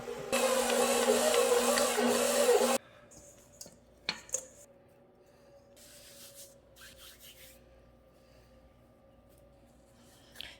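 A spoon stirs active yeast into flour in a bowl for potato Gouda cheese bread, making a loud, steady scraping rub for about three seconds. After that it goes quiet, with only a few faint clinks and knocks.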